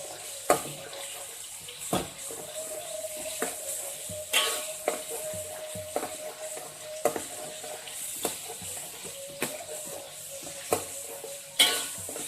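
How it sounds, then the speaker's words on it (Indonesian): Sliced tomatoes fry in used fish oil for a Padang-style sambal, a soft steady sizzle broken by sharp periodic clinks and scrapes of a utensil stirring the pan, with no talking. "Pertama-tama kita goreng tomat dulu."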